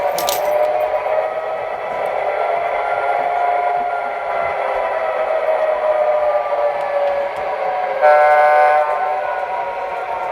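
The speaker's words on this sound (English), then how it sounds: "this is a testing center where they test out the trains" Model train running on a test track at a Chicago hobby store, a continuous rolling rumble with metallic ringing tones and a brief brighter squeal near the end, fairly close and steady.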